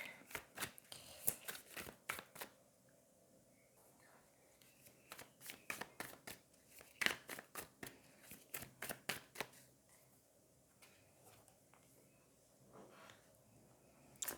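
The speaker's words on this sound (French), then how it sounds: "Je vais peut-être encore le mélanger un petit peu." Tarot cards are shuffled by hand in quick bursts of riffling and flicking, close up and crisp, separated by pauses. Soft speech is heard.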